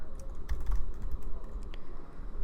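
Rapid clicking keystrokes on a computer keyboard during coding, close and steady with irregular rhythm, heard alone without talk.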